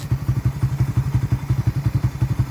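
A Suzuki Raider 150 FI motorcycle with its stock exhaust pipe idles close by in a steady, rapid, thumping pulse. The engine runs alone and fairly loud with no voices.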